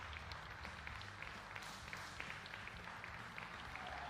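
Crowd applauding at a women's 10m air pistol SH1 para shooting event at the WSPS World Championships in Lima, a faint, steady patter of clapping from a distance, with soft murmuring underneath.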